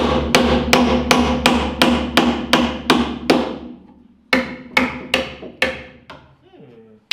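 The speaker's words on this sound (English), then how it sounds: "That's how I hammer normally." Steady, evenly spaced hammer blows ring out loudly up close at an off-grid house building site, about a dozen strikes, pausing briefly before a few more.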